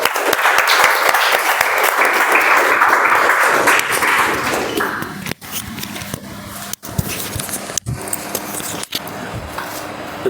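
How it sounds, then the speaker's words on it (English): An audience at a speaking club meeting gives a hearty round of applause for a speaker, loud and dense for about four seconds before tapering into lighter scattered clapping and a few sharp knocks. "Can we have a round of applause for her, please?"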